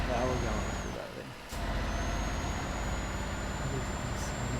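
Scania heavy-haul truck engine in Euro Truck Simulator 2, a loud continuous drone with hissing air-brake bursts and a thin high whine, dipping briefly before resuming under faint talk.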